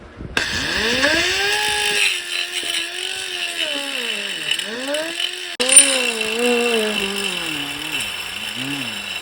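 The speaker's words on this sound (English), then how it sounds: "So I'm going to show you a way to do it with a grinder." An angle grinder whines loudly up close while grinding the rivet heads off a link of a chain on a 2022 Kawasaki ZX10R, its pitch rising and sagging with load and a brief dip midway.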